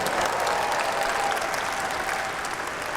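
A large audience at a maker convention bursts into dense, loud applause and cheering for teachers, sustained evenly throughout.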